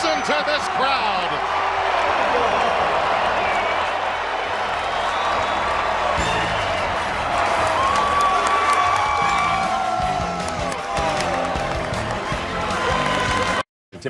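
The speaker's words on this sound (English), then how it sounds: "Listen to this crowd." Basketball arena crowd at a Marquette vs Villanova college game roaring and cheering loudly and continuously during a timeout, a dense wall of noise with whistles and shouts, ending abruptly.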